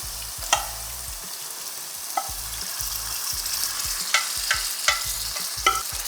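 Beef pieces sizzling in a hot pot for a Trinidadian-style curry, a loud steady fry broken by a rhythmic series of sharp clanks and scrapes as the meat is tossed and stirred.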